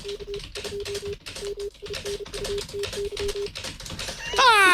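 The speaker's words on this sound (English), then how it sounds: "I like the lo-fi Stacey's typing, right?" Lo-fi typing sound effect used as a breaking-news sting: a steady, rapid clatter of keystrokes under a repeating low tone, ending in a rising chime-like flourish, fairly loud and with no talk.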